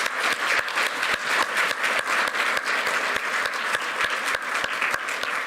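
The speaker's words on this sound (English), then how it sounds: "let's just give another round of applause for the people." Applause at a fundraising concert for Ukraine, a steady dense rush of clapping with distinct nearby claps punching through at a regular pace throughout.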